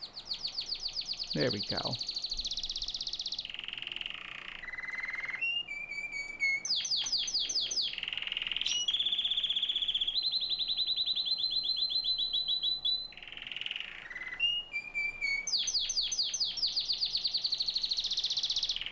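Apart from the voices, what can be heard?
pet birds chirping and singing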